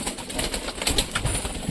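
Pigeons fed outdoors flutter and shuffle close by, with repeated bursts of wing flapping and soft scattered coos in quick irregular rhythm.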